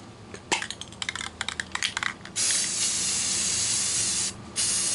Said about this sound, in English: we're going to spray the backs of these pink